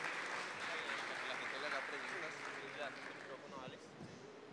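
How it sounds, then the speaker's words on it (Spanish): Quiet applause from a conference audience, a soft, even wash of clapping heard at a distance with some murmured voices mixed in, tapering slightly near the end. "Aplausos, ¿no? Obviamente."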